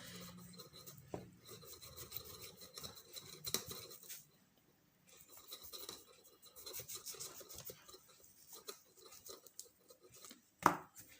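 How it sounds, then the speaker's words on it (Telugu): A knife cuts a lemon into four parts, giving close, quiet scraping and slicing strokes in short irregular bursts with pauses, ending in a sharper cut. "మీరు నిమ్మకాయని దీన్ని కట్ చేయాలి ఎలా అంటే నాలుగు భాగాలుగా విడిపోకుండా కట్ చేయాలి"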